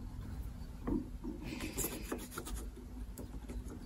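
A wooden piece sliding back and forth in a jig for cutting tenons on a parlour guitar build, producing soft close rubbing and rasping friction sounds in short strokes.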